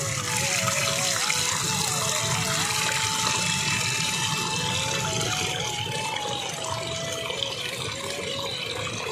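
Cold water flowing out on its own from a natural spring in the rainy season, heard as a steady close rush of running water without a break, with faint tones and distant sounds behind.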